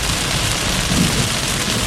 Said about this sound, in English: I think I can hear thunder from this core